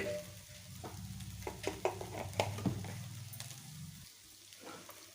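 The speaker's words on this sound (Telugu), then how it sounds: "ఇలా మసాలా అంతా బాగా వేయించుకోవాలండి" Masala for a Rayalaseema-style boti curry sizzles and crackles steadily in a hot pan, with a few scrapes and stirring clatters of a spoon against the metal.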